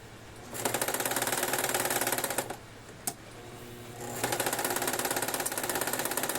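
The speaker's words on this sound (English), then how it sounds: "It's gonna get a bit loud, but while we're sewing down" An electric sewing machine stitches fabric for a scrunchie, running loud, close and steady in two long bursts separated by a short pause and a single sharp click.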